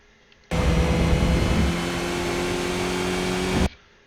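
A Skip Barber race car in iRacing at Laguna Seca holds steady at full power in fourth gear, a loud, continuous engine drone with a sustained harmonic whine that starts abruptly and cuts off cleanly after about three seconds.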